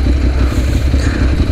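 A Ducati Monster 795 motorcycle engine giving a steady, loud, low rumble with clattery mechanical texture, running without pause.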